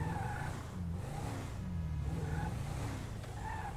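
A Toyota Fortuner being parked in GTA V gives a steady, low engine rumble that stays even and moderately loud throughout, with no voices.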